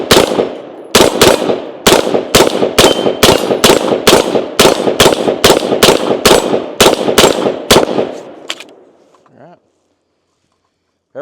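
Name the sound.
gunshots from Sig M400 SDI Series X AR-15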